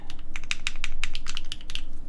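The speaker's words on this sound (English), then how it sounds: "I'm currently typing on a Neo60 Cu by qwertykeys" Close, crisp keystrokes come in a quick, fairly even patter on a QK Neo60 Cu mechanical keyboard with factory-lubed blue cheese switches on a PC plate, each press a distinct clack.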